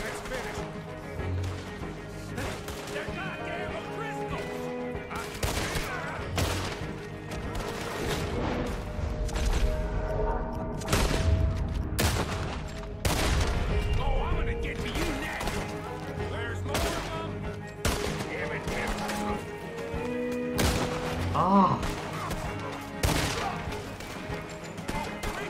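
Scattered gunfire as Arthur shoots in Red Dead Redemption 2 on Xbox One S, irregular sharp shots and occasional booms spread across a noisy scene, with someone talking over the shooting.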